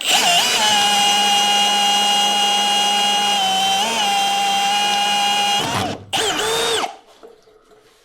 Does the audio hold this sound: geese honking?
no